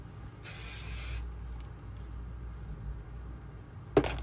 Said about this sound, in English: So I can kind of spray that a little bit,